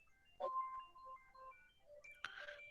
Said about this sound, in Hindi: एक मिनट गाइस, खुशी का फोन है